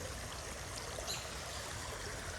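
A small creek flows at Walton Run, a steady soft rush and trickle of water running continuously without any talking.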